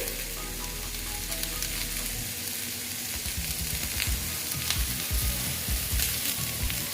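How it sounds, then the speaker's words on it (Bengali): Steady sizzling of food frying in a pan, continuous and close, with a low crackle and no voices. "একটু ভেজে নিচ্ছি"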